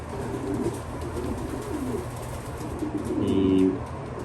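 Racing pigeon cooing in a loft, soft low throaty coos near the start and a clearer, louder coo toward the end, heard close against a steady ambient hum.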